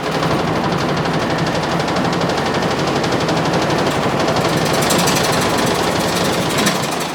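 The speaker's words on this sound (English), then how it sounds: "I can't even lathe it concentric because of how much it bounces as I lathe it." A homemade sawmill wheel spins unevenly on a lathe, giving a loud, continuous mechanical roar with a fast, rattling, knocking pulse as it bounces against the cutting tool throughout.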